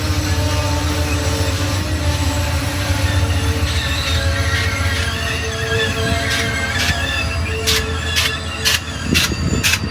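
Amtrak passenger train 46 rolls past on the Union Pacific Roseville Sub, a steady loud rumble of wheels and rail noise with rhythmic clicks toward the end as the cars go by.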